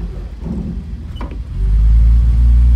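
A 1968 Mercedes-Benz 250SL takes full throttle from a stop, its engine rising into a loud, steady low roar that swells and holds to the end of the clip.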